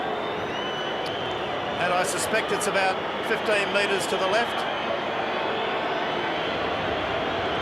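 Stadium crowd roars and chants at a 1987 rugby league major semi-final between Manly Warringah and Eastern Suburbs as a goal kick is lined up, a steady distant din swelling midway, with a commentator talking over it.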